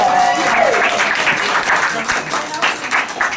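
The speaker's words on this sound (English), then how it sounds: "Everybody give me a big round of applause." An audience at a live radio show breaks into a round of applause, dense sustained clapping filling the room, close and loud, with a voice briefly over the start.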